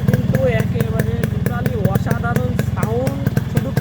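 A modified Yamaha RX 100 motorcycle, styled after a Royal Enfield, idles steadily nearby with a rapid low throbbing pulse, running continuously beneath someone talking.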